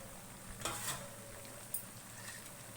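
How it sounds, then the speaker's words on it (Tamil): Gulab jamun balls deep-frying in oil make a faint, steady bubbling sizzle with a couple of soft clinks, quiet and without any talk. "நான் எண்ணெய் ஊற்றிருக்கிறேன், பொரித்து காமிக்கிறேன்"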